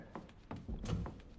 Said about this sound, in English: Sounds like he's climbing the ladder in the,